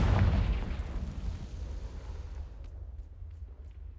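A single deep boom from the Confringo explosion spell in Hogwarts Legacy bursts loudly at the start, then rumbles and decays into a low fading tail with no voices over it.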